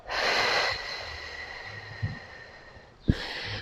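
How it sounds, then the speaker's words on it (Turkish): A person breathes out deeply during a pregnancy breathing exercise: a long, close airy exhale, then a quiet pause and a sharp catch of breath starting a new breath. "Nefes veriyorum."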